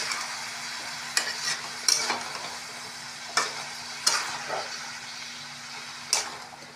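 Onion paste frying in a pan and being stirred, a soft steady sizzle broken by sharp scraping strokes of a spoon at irregular intervals, close up with no voices.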